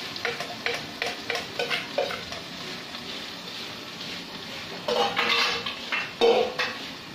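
Ingredients sautéing in a pan, with clinks and scrapes of a utensil against metal in uneven bursts over a soft sizzle, close by.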